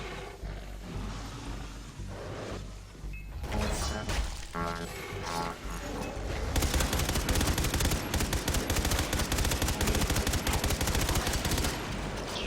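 Rapid bursts of automatic gunfire in the retro-futuristic shooter Far Cry 3: Blood Dragon, with loud, dense, sustained shots after a few seconds of scattered fire and game sounds.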